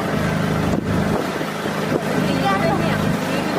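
A steady motorboat engine drones close by on the Vembanad backwaters in Alappuzha, with wind buffeting the microphone and a brief dip in the noise partway through.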